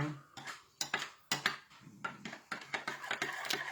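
Metal utensil clinking and scraping against a small pot while hazelnut sauce is stirred in a home kitchen, a quick irregular series of close, bright knocks and scrapes with no talk.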